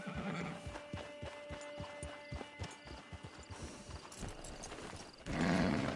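Hooves clip-clop in a steady rhythm, then a horse whinnies loudly near the end in Red Dead Redemption 2, game-like with a faint hum underneath.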